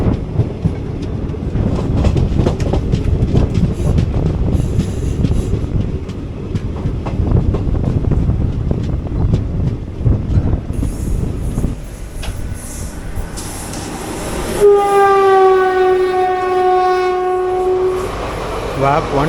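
A Palakkad Town–Trichy Express train rumbles past loudly on the line from Trichy, its heavy wheel and carriage noise filling the first half before a long, loud horn blast sounds near the end.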